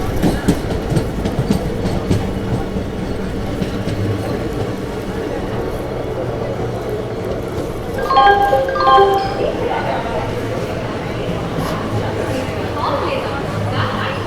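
The Chennai Egmore–Mumbai CSMT superfast express 22158 rumbles steadily at Kadapa station's platform 3, with a short burst of squealing wheels partway through and a voice talking over it.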